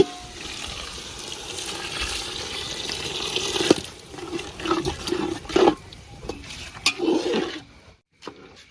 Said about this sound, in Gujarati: પાણી પણ વેડી દઈશું અંદર આપણે